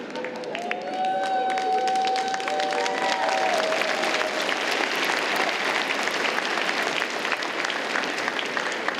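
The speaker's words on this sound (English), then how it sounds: "You get an even bigger round of applause now" A large graduation ceremony audience breaks into steady, sustained applause that fills the whole stretch, dense and even in loudness, with a brief tonal cheer or whoop near the start.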